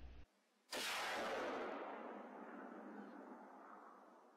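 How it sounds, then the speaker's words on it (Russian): A single loud rifle shot fired at a wild boar in a field cracks sharply after a near-silent pause, then rolls out in a long echoing boom that fades slowly across open country. "и делаю выстрел за лопатку"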